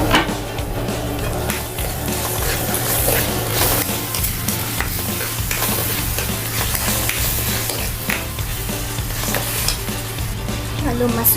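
Blended shallot chili sambal paste with added sugar fries in a pan, sizzling continuously as it is stirred with repeated scraping strokes, loud and close throughout.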